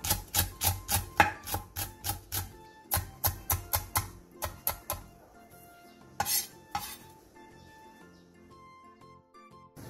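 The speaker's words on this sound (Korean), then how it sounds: "대파 3분의 1개를 길게 반으로 가른 뒤 쫑쫑 썰어주세요." A third of a green onion, split lengthwise, finely sliced with a knife on a cutting board: rapid runs of crisp, close knife taps in quick rhythmic bursts with short pauses, trailing off into quieter scattered kitchen clatter.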